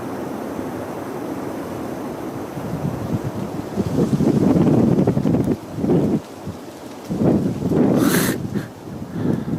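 A strong evening gust of wind at Pengersick Castle roars into the microphone, swelling and dropping in waves, loud and blustery with rumbling buffeting.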